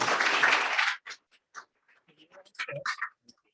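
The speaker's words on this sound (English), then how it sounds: "So one more round of applause for our candidates" Audience applause for candidates at a lunch event: a short burst of clapping for about a second, then it stops abruptly, followed by scattered faint taps and quiet movement.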